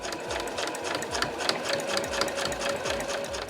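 Domestic sewing machine stitching fabric while making a tissue case and pouch, a steady fast mechanical whir with rhythmic needle thumps that continues evenly throughout, close and moderately quiet, with no talking.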